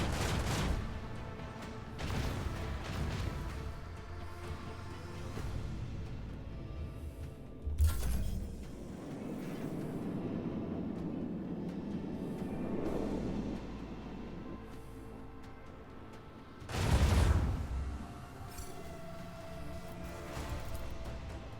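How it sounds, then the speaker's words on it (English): Macro cannons on a starship fire a volley in a Warhammer 40,000 Rogue Trader battle, with heavy booming blasts at intervals over a continuous rumbling, droning battle background, two strongest impacts standing out loud and near. "Macro cannons, volley."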